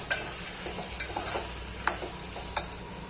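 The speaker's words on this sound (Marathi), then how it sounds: "तांदूळ पण मिक्स करून घेऊ." Spoon stirring rice into masala khichdi in a pan with turmeric, a series of sharp scraping clinks at irregular intervals over a soft, low sizzle.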